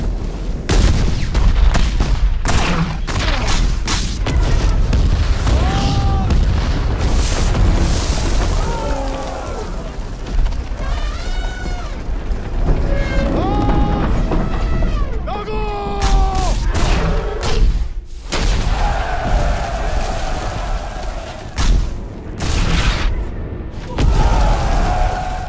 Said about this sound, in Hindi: अपनी तोपें दागो इन पे।